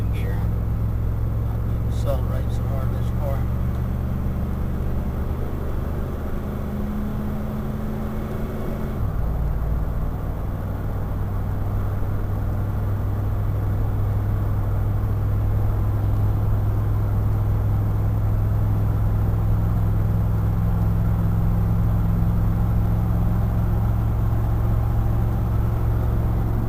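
A car engine revs up under hard throttle as the transmission kicks down into passing gear, the pitch dropping abruptly at the shift and settling into a loud, steady drone, with someone talking over it.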